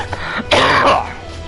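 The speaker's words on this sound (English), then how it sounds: "stop coughing." A man clears his throat and coughs at close range, a short rough hack followed by a longer, louder rasping clear that fades out.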